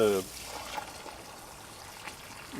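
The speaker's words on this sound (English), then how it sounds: "I'm rinsing it out here" Water trickles and pours while a rock tumbler barrel is rinsed out, a soft, steady wash of liquid with a few small splashes and clunks, faint and close, with no talking over it.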